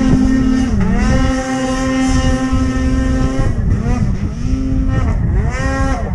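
Snowmobile engine revving hard while climbing a hill in Abitibi Canyon in winter, a loud droning whine rising and dipping with throttle changes, close by, with faint voices in the background.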